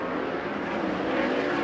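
Sprint race cars in an ASCS SouthWest B-Main on the Arizona Speedway track at night make a continuous high, buzzing engine roar that carries across the track at steady volume.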